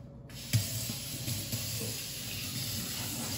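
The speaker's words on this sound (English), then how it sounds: "let me wash my hands here" Tap water gushing in a steady hiss as hands are washed under it, loud and close, with faint splashing shifts and a high whine over the rush.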